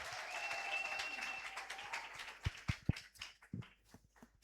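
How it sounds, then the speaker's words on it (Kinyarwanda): Guests applauding at a wedding ceremony in Rwanda, a moderate spread of clapping that thins out and gives way to a few sharp, separate claps near the end, heard faintly at a distance. "Amashyi menshi cyane."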